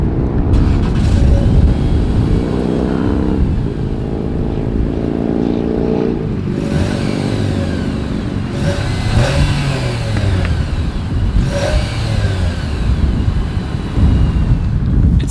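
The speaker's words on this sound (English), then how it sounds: "As always, here is that exhaust clip." A 2022 Nissan Sentra's exhaust rumbles and revs outdoors, with repeated rises and falls in engine pitch as the throttle is blipped, fairly close and loud, with no talking over it.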